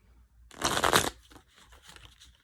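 A quick, close riffle of tarot cards being shuffled, followed by softer light flicks and taps as the deck settles.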